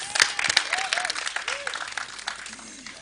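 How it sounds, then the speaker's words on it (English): Audience applause at a launch event for season 2 of the TV series 24, a dense crowd clapping throughout with a few whistles and cheering voices mixed in. "Give him a round of applause."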